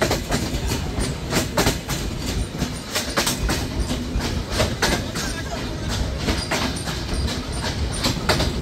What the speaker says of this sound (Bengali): ট্রেনটি ছেড়ে যাচ্ছে ঢাকার উদ্দেশ্যে